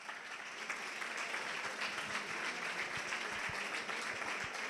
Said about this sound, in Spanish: Otro aplauso más fuerte para la performance happening que se acaban de marcar Carlos y Francisco.